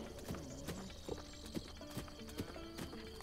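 Rhythmic clip-clop of a horse's hooves in Breath of the Wild, steady galloping beats with occasional whinnies over a bed of game music.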